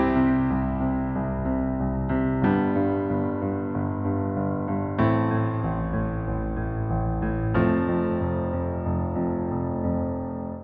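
Solo piano plays a left-hand rotating octave pattern beneath sustained chords, a steady rhythmic bass figure with new chord attacks roughly every two and a half seconds, close and clear with no talking.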